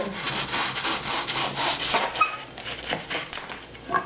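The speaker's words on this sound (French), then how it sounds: "je vais utiliser une scie qu'on appelle une scie onglet pour faire une ligne très droite" Steady rasping of a fine-bladed miter saw cutting soft balsa wood for a fishing lure, close up, with repeated back-and-forth strokes and no talking.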